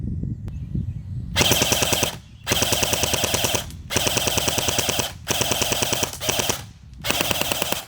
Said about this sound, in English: now we're going to see if I can full auto burst these guys